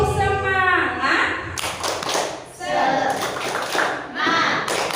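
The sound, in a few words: group clapping game 'tepuk semangat' rhythmic clapping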